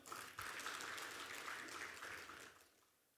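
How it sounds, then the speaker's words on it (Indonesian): An audience applauds Pak Suwarno at a delegation registration meeting for PON XXI Aceh-Sumut 2024, a steady wash of clapping from a crowd that holds for a couple of seconds and then fades out, no voices heard. "Kita berikan aplaus kepada Pak Suwarno"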